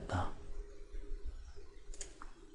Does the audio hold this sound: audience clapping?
no